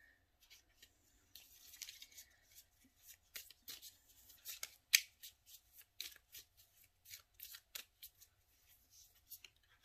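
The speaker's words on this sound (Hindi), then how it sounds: "एक मिनट मैं जरा इन कार्डों को शफल कर लूं" Tarot cards being shuffled by hand, a quiet run of soft, papery riffling and flicking bursts that come in a steady, irregular rhythm up close, with no talk over them.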